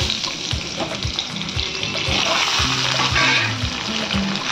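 Mango pieces tumble into hot oil with spluttering panch phoron for a mango chutney, setting off a loud, close sizzle and crackle with a few knocks of the spoon against the pan.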